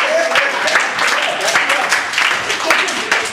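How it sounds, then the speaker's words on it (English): Improv comedy theater audience breaks into loud, close applause, a dense wash of clapping with voices mixed in throughout. "give him a round of applause"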